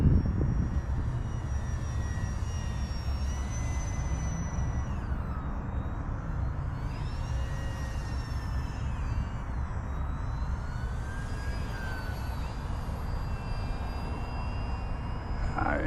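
An Arrows Hobby P-51D Mustang 850mm RC warbird model airplane flies overhead, its electric motor whining steadily with pitch rising and falling as it maneuvers, over constant outdoor background noise.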